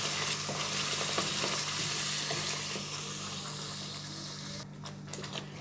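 Ground masala paste being stirred and fried in a pan over a lowered gas flame, a steady close sizzle with scraping stirs throughout that briefly thins near the end.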